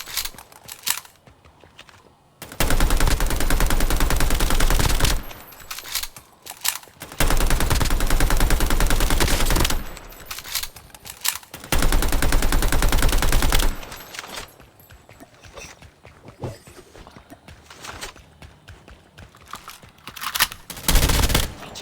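Sustained automatic gunfire from a Call of Duty match, loud bursts of rapid fire in several long stretches separated by quieter gaps of ambient game sound.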